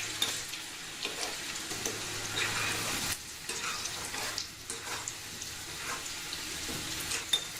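Potatoes, seasoned with turmeric and salt, frying in oil, a continuous close crackling sizzle with small bursts and shifts as pieces are moved, with no talking.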